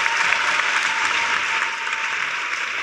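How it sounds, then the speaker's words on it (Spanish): An audience at a festival talk applauds steadily, a dense, loud wash of clapping that holds throughout and eases slightly near the end. "quiero pedirle un aplauso a María del Mar Ramón, al Pitu Salvatierra"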